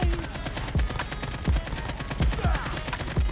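Rapid gunfire in a first-person shooter played on an iPhone 12 Pro Max, a steady string of punchy shots roughly every quarter second with deep thumps, loud and close, and no talking.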